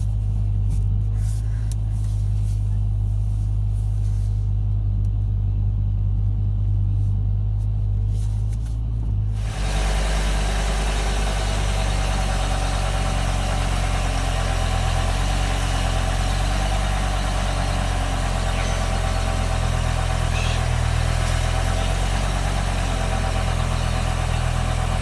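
A BMW engine idles steadily up close during a power steering fluid change while the steering wheel is turned lock to lock; a low continuous drone rises into a louder, broader hum partway through and holds without speech.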